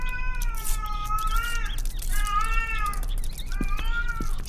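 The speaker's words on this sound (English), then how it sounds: "It's a ghost cat!" A ghost cat in the indie horror game Erie gives three drawn-out, wavering meows, fairly loud and eerie over a low background hum.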